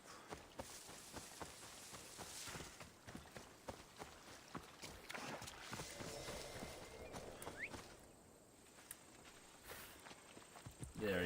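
Hoofbeats of the horse Phobos approaching in Assassin's Creed Odyssey, a rhythmic clip-clop that grows nearer amid faint game ambience.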